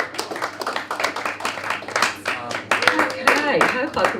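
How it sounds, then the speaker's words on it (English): Audience at a poetry slam claps in uneven bursts, sharp close hand claps layered with people talking and laughing throughout. "Clap."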